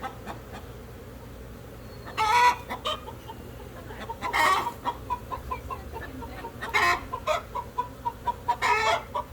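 Backyard chickens clucking and squawking in several loud bursts, with quieter intermittent clucks between them over a low steady background hum.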